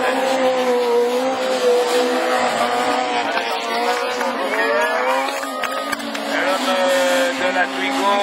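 Super 1600 rallycross cars, among them a Renault Twingo, race at Lessay with loud, rising and falling high-revving engine whines as they pass close together. An excited commentator talks over the racing throughout.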